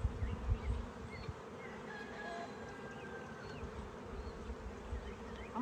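Honeybees in an open hive, building out comb on the bottom of a frame, make a steady, dense buzz close by. A few soft knocks of frames being handled come near the start.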